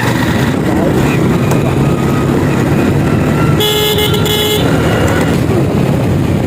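A car driven by a first-time driver on roads around Mymensingh gives a loud, steady road and engine rumble, with a sustained horn blast partway through and other traffic close by.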